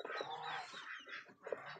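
Yi Liang ducks call out, giving a short series of nasal, honking quacks at moderate distance, with several calls overlapping across about two seconds and no talking.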